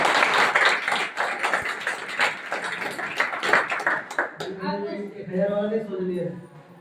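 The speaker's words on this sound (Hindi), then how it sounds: "एक बार सत्यन सर जी के लिए ताली।" Group applause for a guest speaker at a talk, steady close clapping for about four seconds, followed by a person speaking once it fades.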